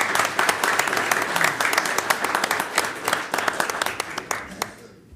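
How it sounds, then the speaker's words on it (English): A room at a city mayor and council meeting breaks into a round of applause. Many hands clap in a brisk, uneven patter that stays fairly loud, then fades and stops near the end. "Let's have a round of applause for the"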